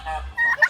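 A turkey hen on a farm animal sanctuary gives a short gobbling call, a brief rough burst followed by higher rapid yelping notes, close and fairly loud.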